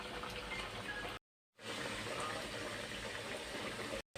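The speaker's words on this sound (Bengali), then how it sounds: "এখন বাকিগুলো আমি এমন মিডিয়াম জালি গোল্ডেন কালার করে ভেজে নেব।" Khaja pastries fry in oil over a medium flame, a steady close hiss and bubbling crackle that cuts out twice in brief gaps before resuming.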